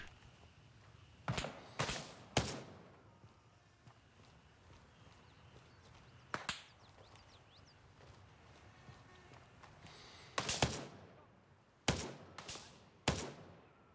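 Gunfire in the video game Gray Zone Warfare: short bursts of two or three sharp shots, one single shot in the middle, then a final quick volley, heard over low background noise.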